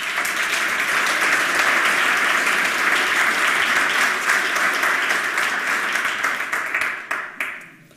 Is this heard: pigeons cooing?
no